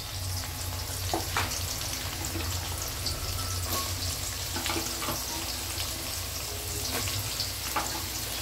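Vegetables sauté in a hot pan with onion, ginger and garlic, giving a loud, dense, continuous sizzle close by, broken by occasional stirring scrapes and clatters, with no voices.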